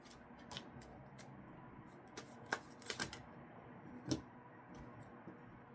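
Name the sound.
shuffling and drawing tarot cards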